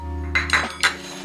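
A metal pot is pressed down to crush coriander seeds, giving three sharp, close clanking knocks in quick succession over a low hum.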